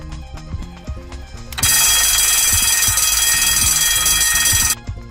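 A ship's general alarm bell rings continuously for about three seconds, loud, bright and clanging, over a background of soft beeping tones.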